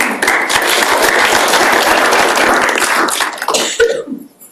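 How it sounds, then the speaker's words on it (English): Dense applause from a lecture-hall audience, many hands clapping steadily and loudly for about four seconds before thinning out to a few scattered claps and a short cough. "thanks for the applause for tenure"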